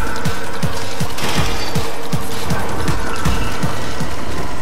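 Rapid gunfire from shooting zombies in the game Dead Nation, a steady stream of repeated sharp shots at an even rhythm over a loud, dense backdrop of game noise, with no talking.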